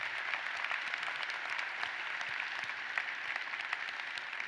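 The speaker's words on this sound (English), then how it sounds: "Let's give them all a round of applause." Steady applause from a large commencement crowd at a university graduation ceremony, a dense even wash of clapping that fills the hall throughout without any speech over it.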